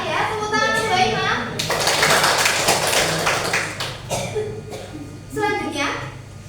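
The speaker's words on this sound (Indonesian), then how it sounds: "Tepuk tangan untuk Mbak Ima" A classroom of students claps for a classmate in a short burst of applause. A teacher's and children's voices are heard before and after it.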